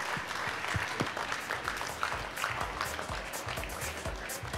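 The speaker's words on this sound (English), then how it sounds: "With a thundering applause and a request to audience to rise and receive this gem of a man, Dr. Ramharsh Singh, with a standing ovation." An audience gives a standing ovation to Dr. Ramharsh Singh at a lifetime achievement award ceremony: steady, even applause from many hands, heard from some distance and fairly soft.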